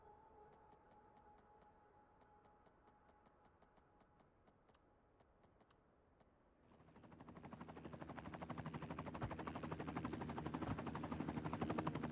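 A helicopter in the city-building game Cities Skylines 2 passes close by, its rotor chop rising abruptly from a quiet ticking background into a loud, rhythmic, sustained thumping that grows stronger toward the end.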